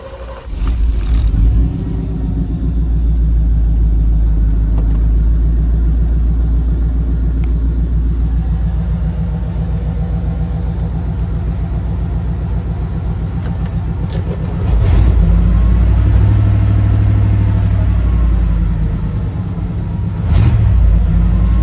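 A Ford OBS pickup truck's engine, just fitted with a new ignition module, idles with a loud, close, steady rumble, then revs up in a heavier surge partway through before settling again.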